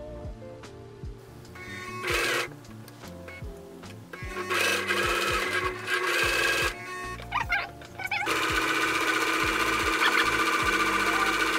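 A sewing machine stitches fabric, starting and stopping in short bursts of rapid mechanical whirring and clatter close up, then running steadily near the end, with no talk.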